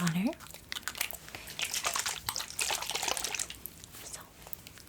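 Plain water is worked onto slightly damp skin during an ASMR barbershop shave. It makes close, soft, wet crinkling and trickling sounds in irregular bursts, with faint voice-like sounds in the background.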